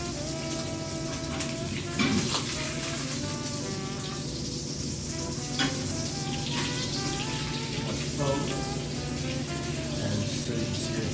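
Unsalted butter foaming and sizzling in a pan for filet mignon, a steady dense crackle and hiss running throughout with a hum of kitchen noise underneath.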